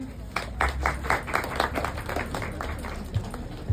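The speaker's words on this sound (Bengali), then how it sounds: "একটা হাততালি।" A crowd at a competition and prize-giving event claps in a rapid, uneven patter that swells and then thins out, filling the room at moderate loudness.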